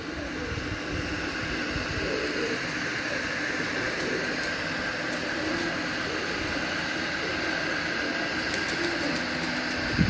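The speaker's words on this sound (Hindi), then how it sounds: "ये 9 नंबर सलारे कबूतर हैं, सुच वाले" Salara pigeons kept by fanciers on a rooftop in Kasur give soft, faint coos within a steady wash of outdoor background noise that runs throughout.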